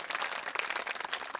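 A crowd applauds in dense, steady clapping to welcome the makers of a Shiva linga and Nandi idol at a Shiv Puran religious gathering, filling the short moment without pause.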